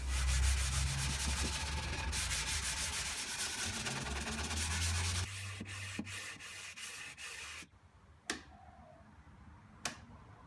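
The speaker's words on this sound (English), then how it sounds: "so all I had to do was give it a sand all over and soften all the sharp edges" Hand sanding a wooden floating frame for a canvas to soften its sharp edges: continuous close rasping strokes for several seconds, then a few isolated taps once the rubbing stops.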